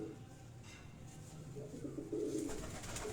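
A pigeon coos softly on a rooftop among kept pigeons, low faint murmuring calls over a steady background hum, with no talk.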